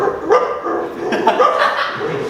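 A voice mimics a dog's bark in a few short, yappy bursts, close and fairly loud, with a hint of laughter mixed in.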